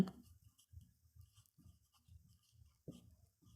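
A pen or chalk writes numbers by hand during a seventh-grade Bengali math lesson, making soft, quiet scratching strokes in a steady rhythm of short taps, close and alone.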